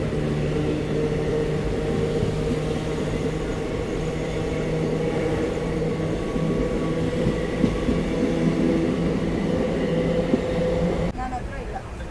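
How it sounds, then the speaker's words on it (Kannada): KSR Bengaluru–Kanyakumari Island Express train running past, a steady loud rolling rumble with faint rhythmic wheel clatter throughout, the sound changing abruptly near the end. "KSR Bengaluru Kanyakumari island express."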